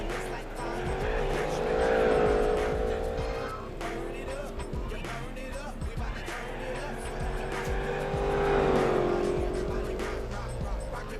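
Race car engine in Gran Turismo 4 during an endurance race at Laguna Seca, a loud sustained roar that climbs in pitch, drops at an upshift and rises again, with a commentator talking over it.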